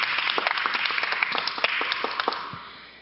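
Audience applause of thanks at a youth peace talk show in South Jeonnam, following a tenor's vocal performance: a steady wash of many hands clapping at moderate distance, fading out toward the end.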